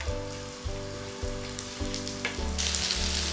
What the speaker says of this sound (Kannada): ಸಿಮ್ನಲ್ಲಿ ಇಟ್ಕೊಂಡು ಇದನ್ನು ಫ್ರೈ ಮಾಡ್ಕೊಳ್ಳಿ.